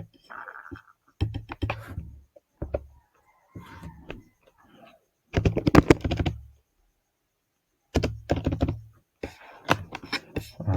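Keystrokes tapped on a computer keyboard come in short bursts of clicks separated by pauses, fairly close and moderately loud, with no talking over them.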